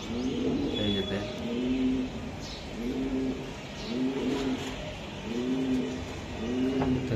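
Racing pigeons from a club loft coo in a slow, repeating rhythm of soft throaty calls, close by and fairly quiet, with faint chirps in the background.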